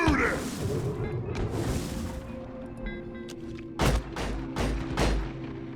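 Explosive plants bursting after being shot in Deep Rock Galactic, several sharp loud booms and thuds among gunfire, with the heaviest blasts clustered near the end and voices talking throughout.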